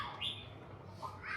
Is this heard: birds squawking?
yes